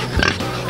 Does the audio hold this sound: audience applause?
no